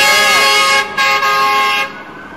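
Fire truck in a parade sounding a loud sustained horn blast, steady and close, cutting off near the end as the sound drops away.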